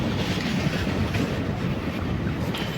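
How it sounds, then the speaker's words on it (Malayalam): The Kerala Express rolling past close by as it crosses the train carrying the listener, a loud, steady roar of wheels and carriages with rhythmic rail clatter throughout. "നമ്മുടെ കേരള എക്സ്പ്രസ്സിനെയാണ് ഇതേ ക്രോസ് ചെയ്ത് പോവുക"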